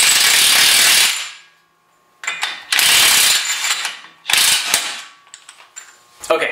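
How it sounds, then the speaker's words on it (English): An impact wrench loosens the front axle nut on a 2016 Mazda3 in a wheel bearing hub job, giving loud close hammering bursts separated by short pauses. "this is the first time that we've actually had to use an impact gun"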